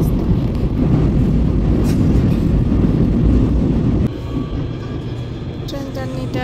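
A metro train in South Korea rumbles along in a loud, steady roar from inside the carriage, then settles into a quieter hum with faint tonal chimes near the end.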